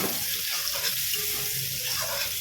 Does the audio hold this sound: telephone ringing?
no